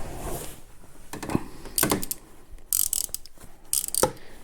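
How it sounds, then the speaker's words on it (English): A ratchet wrench undoes 10mm bolts on an ATV with a run of close, sharp clicking bursts separated by short pauses, with faint metallic handling between them. "it really is a simple matter of undoing 3 10mm bolts."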